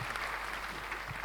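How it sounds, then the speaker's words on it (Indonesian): A church congregation claps together in steady, dense applause that fills the room at an even level for the whole moment. "Kasih tepuk tangan yang meriah buat Tuhan"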